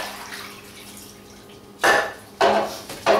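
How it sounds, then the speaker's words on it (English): A metal pot is emptied after being drained through a colander, giving three sharp, loud bursts of splashing water and clanking metal, close by, after a quieter stretch of low background hum. "empty the pot"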